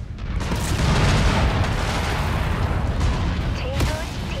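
Incoming missiles strike in the Mechwarrior 5 video game, producing a dense, loud rumble of overlapping booms and blasts that roars continuously with a few sharper impacts near the end.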